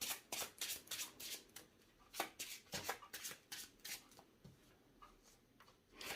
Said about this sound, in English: Oh, I need to shuffle my deck,